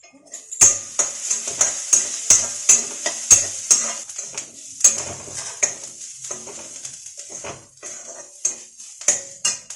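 Onions fry in a pan for a soya chunk curry, a soft sizzle under repeated stirring strokes and sharp spoon-on-pan clinks in an irregular rhythm, close and without talk.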